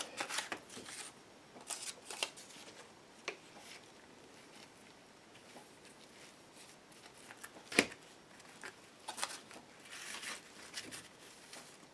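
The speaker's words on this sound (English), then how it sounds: "I am going to go in here at the corners and snip those so that my corners are a little bit cleaner" Scissors snip the paper corners of an altered book box, faint crisp clicks and paper rustles scattered irregularly across a quiet background.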